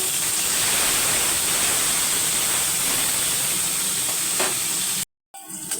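Sarputi fish, already flipped, frying in hot oil in a kadai, giving a steady loud crackling sizzle with a few light clicks from utensils before it cuts off near the end.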